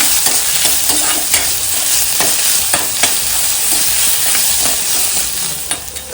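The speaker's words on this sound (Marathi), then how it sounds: "आता कांदा आपल्याला छान परतवून घ्यायचा आहे." Finely chopped onion sautés in a pan, a steady broadband sizzle with repeated scrapes and stirring clacks running throughout, close and fairly loud with no talk.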